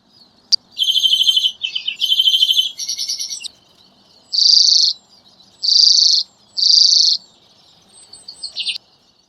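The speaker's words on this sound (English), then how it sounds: "Redpoll." A redpoll gives a string of loud, close, buzzy chirps and trills in separate bursts with short pauses between them, standing alone against near silence.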